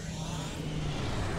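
Starship in Star Trek Online entering slipstream, a steady, dense roaring whoosh with a low hum underneath, continuous and close, with no voices.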